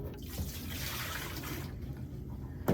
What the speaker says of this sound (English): I want to pour the rinse water down the sink.